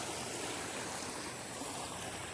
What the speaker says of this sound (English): See the waves coming in here.